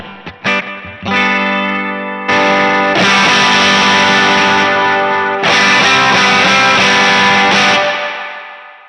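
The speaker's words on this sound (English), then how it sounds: "I'm going to mess with the toggle switch so you can hear when those germanium diodes start clipping in there" Electric guitar through a Keeley MK3 Driver overdrive pedal with its toggle switched to germanium diode clipping. Loud, driven chords ring out, with short stabs at first giving way to longer, fuller sustained strums.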